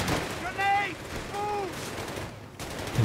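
Tank cannon fire in the Company of Heroes 3 video game, a Panzer III firing long-range shots: two distinct shots with ringing, whistling tails under background battle noise.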